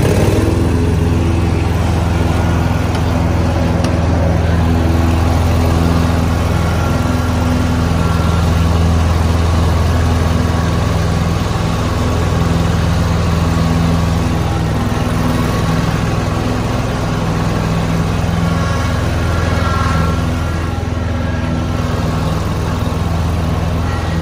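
A John Deere Ztrak 740R zero-turn mower runs at full throttle with the PTO engaged. Its engine roars loud and close with a steady, unbroken drone, and the spinning deck adds a constant whir.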